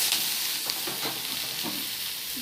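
Okra pieces frying in a pan while being stirred, a steady close sizzle broken by soft scraping stirs, with no talk over it.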